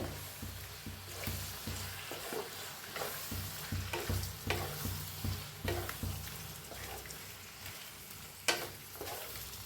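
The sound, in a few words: stirring paneer roll filling in oil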